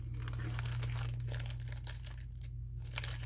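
Paper flowers crinkling as they are folded over and pushed into a bag, a soft, continuous rustle and crackle heard close up over a steady low electrical hum.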